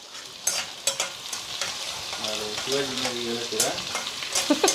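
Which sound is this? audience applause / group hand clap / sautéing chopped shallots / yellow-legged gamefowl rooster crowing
sautéing chopped shallots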